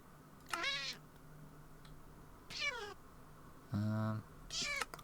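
Four short cat meows from the kitten slippers in a modded Minecraft game, spaced a second or two apart, each a clear mid-loud mew over a faint ambient hum, one lower and more drawn out.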